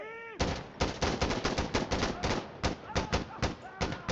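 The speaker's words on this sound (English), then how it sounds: "Where the fuck is the gunshots coming from?" Rapid bursts of gunfire ring out in the video game Insurgency: Sandstorm. They come as a dense run of sharp, loud shots in quick irregular volleys, with a brief tone just before the firing starts.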